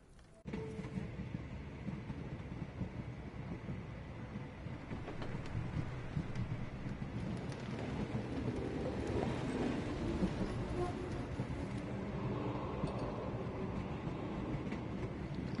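A train travelling in the Sherlock Holmes The Awakened video game, heard as a steady, continuous rumble with wind-like noise that holds at an even loudness throughout.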